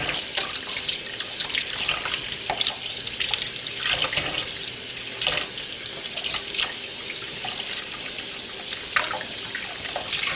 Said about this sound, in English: you're going to pour water in the middle and it will flip